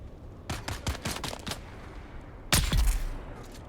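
Gunfire in Dune: Awakening, a quick cluster of sharp shots followed after a pause by a louder, heavier crack with a short echoing tail, fairly close.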